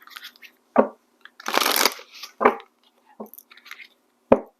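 A tarot card deck being shuffled in bursts close by: short riffles and slaps separated by quiet pauses, with one longer riffling burst near the middle.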